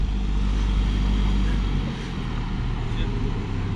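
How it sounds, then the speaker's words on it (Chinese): A sedan's engine held at full throttle while climbing a 5,300-metre mountain pass in Tibet, giving a steady, loud, low droning roar that slackens slightly partway through. "他现在已经把油门踩到底了"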